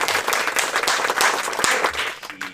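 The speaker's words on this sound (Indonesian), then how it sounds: "Tepuk tangan." A crowd claps and applauds to welcome a guest onto a talk show, bursts of clapping that are lively and near before tapering off at the end.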